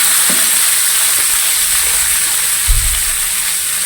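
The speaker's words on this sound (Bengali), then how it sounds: "এবার আলুটা ভেজে নেবো।" Potatoes go into a pan of hot oil with lightly browned onions and sizzle loudly and steadily, with a couple of faint knocks from stirring near the end.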